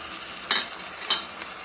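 Ginger garlic paste sizzling in a frying pan for Telangana-style bagara rice, a steady hiss with two quick stirring scrapes, close and clear.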